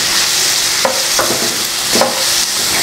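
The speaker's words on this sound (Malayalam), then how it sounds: "എന്നിട്ട് എല്ലാം ഒന്ന് മിക്സ് ചെയ്ത് എടുക്കാൻ പോവാണ്. നന്നായി ആ എണ്ണയിലൊന്ന് നന്നായിട്ട് ടോസായിട്ട് വരണം." Capsicum, beans and other vegetables are tossed in hot oil for restaurant-style vegetable fried rice, with a loud close sizzle and a few sharp scraping tosses, no speech.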